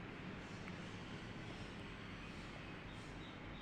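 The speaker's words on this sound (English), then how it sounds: "There's a plane outside my house" An airplane flying over a house makes a faint, steady, distant rumble that holds unchanged throughout.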